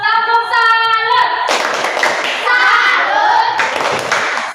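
Schoolchildren in a classroom chant together in unison, then break into bursts of group clapping for a patterned class cheer, loud and close, with chanting returning between the clapping rounds.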